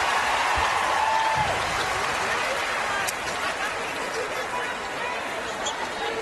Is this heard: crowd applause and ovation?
yes